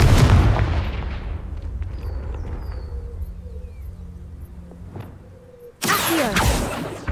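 A Confringo fire spell in Hogwarts Legacy bursts loudly and decays into a long rumbling tail over game ambience, followed by a sharp second blast near the end.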